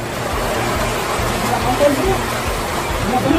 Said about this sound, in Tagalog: Malakas yung ulan eh.